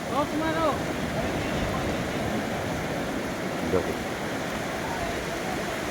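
Sea waves roll in at Digha beach during net hauling by boat. A constant, fairly loud surf roar mixes with wind buffeting the microphone, and a faint voice comes in briefly near the start.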